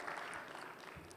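Conference attendees give a short round of applause, a soft, steady patter of many hands heard briefly at moderate distance.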